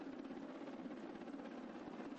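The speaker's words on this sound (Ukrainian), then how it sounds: "На горизонті з'являються два військові гелікоптери." Two military helicopters are approaching. Their rotors make a steady, faint, continuous drone throughout, with no voices.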